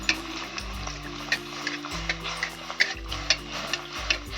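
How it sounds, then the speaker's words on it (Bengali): Leftover roti pieces fry in hot oil in a pan, giving a steady close crackling sizzle dotted with small pops and ticks over a low hum, with no voices. "বাকি যেগুলো আছে আমি একইভাবে ভেজে নেব।"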